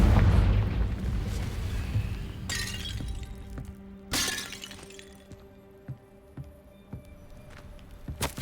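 Confringo fire spell from a Harry Potter video game, bursting in sharp, shattering blasts, with two loud cracks followed by scattered smaller debris crackles as it fades.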